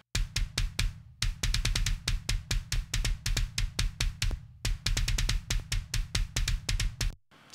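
A kick drum pounds in fast, steady repeated hits with a deep low thump, in two long runs separated by brief pauses.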